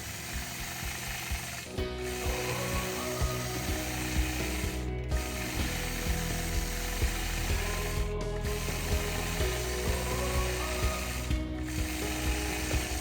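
A quilting machine stitches teardrop-shaped flower petals with a steady, fast mechanical clatter and rhythmic needle ticking, plus brief repeated clicks about every three seconds, close and continuous with no talking.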